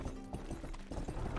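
Horse hooves clop in a quick irregular rhythm as a rider travels on horseback in the video game Rustler, soft and close with a light mechanical rattle.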